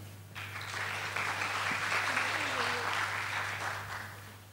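Audience applause welcoming the President and Chief Engineer of Gravitech Thailand onstage at a Thai innovation and crowdfunding talk, a steady wash of clapping from a crowd lasting several seconds, with a low hum underneath.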